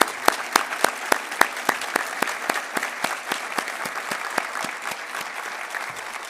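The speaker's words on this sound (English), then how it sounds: "Let's give them a round of applause." An audience at a university State of the University address claps for research center directors and faculty, a moderate burst of applause with distinct individual claps fading slightly toward the end.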